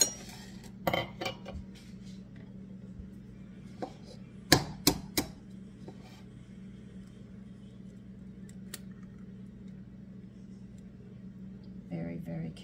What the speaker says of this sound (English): So you're going to have to separate your eggs. So I'll show you how I do it.